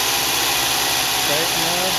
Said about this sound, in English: Turn the motor on.